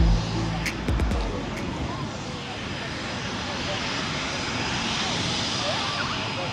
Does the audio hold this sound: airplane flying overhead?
yes